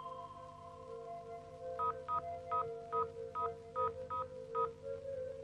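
A telephone number is keyed in on a phone, producing a clear sequence of about nine evenly spaced dialing tones over a faint steady hum, with no talking.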